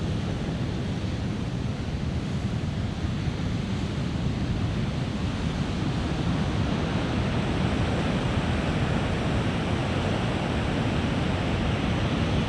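Ocean waves breaking on a beach after the king tides, a dense continuous roar of surf with wind rushing over the microphone, loud and unbroken throughout with no voices.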